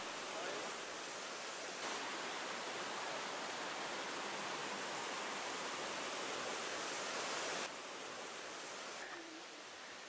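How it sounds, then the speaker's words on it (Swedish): A 60-metre waterfall in Bhutan roars steadily, a dense broadband rush of falling water that stays loud and constant throughout, easing slightly at the very end. "Längst in ovanför bron finns ett 60 meter högt vattenfall som sedan störtar ner för stupet."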